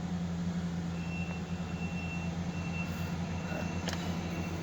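A Ford Ranger truck engine idles smoothly after warming up, a steady close low hum with an even rumble and a faint high whine, briefly joined by a short click near the end.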